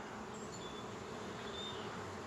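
Soft, steady buzzing of many honey bees from a poisoned colony with many dead bees, a continuous insect drone with no voices, heard fairly quietly throughout.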